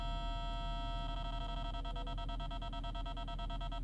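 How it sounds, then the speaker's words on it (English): Radar detector alerting inside a Porsche Cayenne GTS, giving steady electronic tones that shift into a rapid pulsing beep over a low cabin rumble, with no talk. "radar detector's going crazy"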